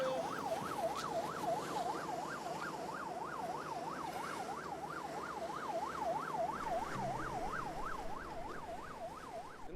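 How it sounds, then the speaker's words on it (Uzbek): Siren wails in a fast, regular up-and-down sweep throughout, steady and moderately distant over a low background rumble, with no talking. "Nima bu sirenaning ovozimi?"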